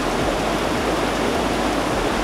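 A large waterfall in Cunha roars as a dense, continuous rush of falling water, steady and loud, with no voices.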